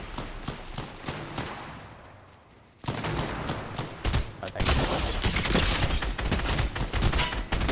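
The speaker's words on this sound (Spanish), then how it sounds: "Disparos por aquí, se oye muy cerca" Rapid bursts of video game gunfire crackle close and loud, settling into a dense, sustained volley after a brief lull.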